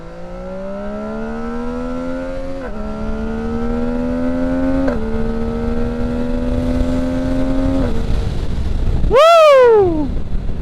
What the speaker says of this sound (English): Oh, them quick shifts sound good.